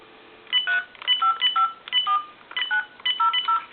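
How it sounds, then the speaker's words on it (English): Touch-tone telephone dialing a time-and-temperature number: a quick run of about a dozen clear, loud dual-tone beeps in short bursts, close to the phone, with no talking. "I'll go ahead and use another telephone to call like a time and temp number"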